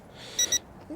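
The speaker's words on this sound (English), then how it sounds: "I'm getting a beep there." A drone remote controller emits a short electronic beep, two quick high-pitched tones in succession during a flight of a Ruko U11 Pro GPS camera drone outdoors in a park, heard over faint background noise.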